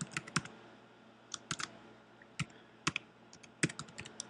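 Quick bursts of keystrokes on a computer keyboard as a login email is entered, sharp close clicks in irregular clusters separated by short pauses, with no talking.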